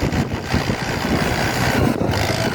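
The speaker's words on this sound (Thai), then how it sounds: "ความแรงของรถไถกุบุต้าเอ็มร้อยแปดเอส" A Kubota M108S tractor levelling land for sugarcane runs with a loud, steady low diesel rumble close by, continuous with no pauses and no voices over it.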